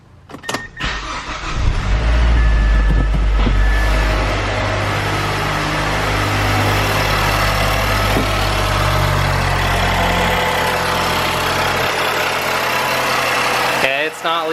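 A Mazdaspeed 6 fitted with new high-pressure fuel pump internals cranks and fires up loudly, then settles into a steady idle that runs for over ten seconds before cutting off.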